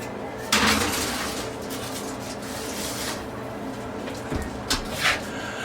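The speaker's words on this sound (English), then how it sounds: "So now, all we gotta do is pop this portion in the oven" A kielbasa and pierogies sheet pan dinner goes into the oven with a clatter of metal and glassy knocks, a rack sliding and a door thumping shut, then a few more sharp clanks close by.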